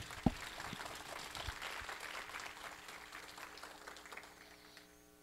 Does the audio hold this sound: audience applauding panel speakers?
yes